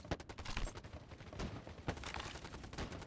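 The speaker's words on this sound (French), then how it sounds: "Ça tire déjà à côté." Rapid bursts of close gunfire crackle from the shooter game Farlight 84, dense overlapping shots with a few louder cracks, continuous throughout.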